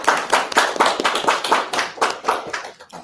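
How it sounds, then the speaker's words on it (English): A small workshop audience claps steadily for a few seconds, crisp hand claps close by with no one speaking. "Can we have another round of applause?"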